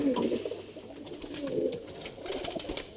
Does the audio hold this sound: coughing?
no